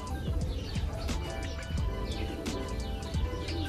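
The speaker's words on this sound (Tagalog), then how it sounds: "mukhang nandito na yung isang ibon natin ah. Ayan, kararating lang." Racing pigeons at a loft, with chirps, coos and fluttering bursts over steady busy background noise, several short calls close by throughout.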